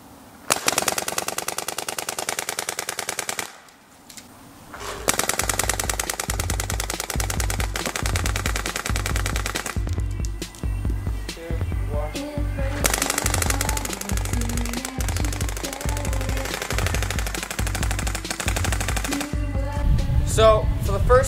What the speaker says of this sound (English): I'm going to be shooting first at that box down there and then at the cone.